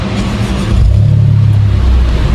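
A car is started by push button and settles into a loud, rumbling idle through an aftermarket exhaust, the low engine note swelling partway through and holding steady, with no talking.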